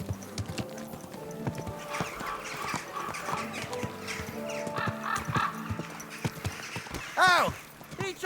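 In Kingdom Come: Deliverance 2, hooves clip-clop steadily while a horse neighs loudly near the end, with a voice speaking over the busy, game-like soundscape.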